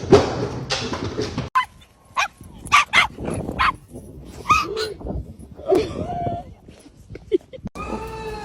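Several dogs bark and yip in a funny compilation, with short sharp barks coming in bursts, some loud and close, and a few whimpers mixed in, separated by brief pauses.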